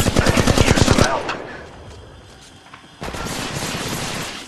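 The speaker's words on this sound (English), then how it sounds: "We find ourselves taking fire." Rapid automatic gunfire rattles loudly in a fast burst in Apex Legends Mobile, pauses briefly, then resumes as a dense sustained volley.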